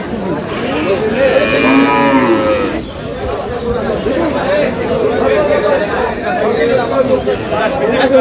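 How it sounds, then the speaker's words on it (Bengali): A bull calf at a rural cattle market in Dinajpur lets out a loud, drawn-out moo close by, followed by busy chatter from several people nearby. "ষাঁড় বাচ্চা"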